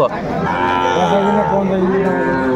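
A young Sahiwal bull calf gives one long, loud, drawn-out moo close by, its tone wavering throughout.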